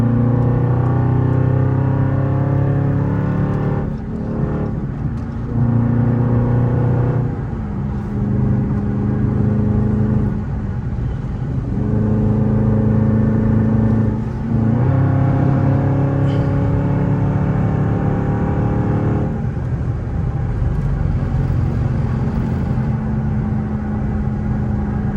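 A Dodge Charger Scat Pack cruises down the highway, its engine a loud, steady rumble with a few rises and falls in revs, heard from inside the car with no talking.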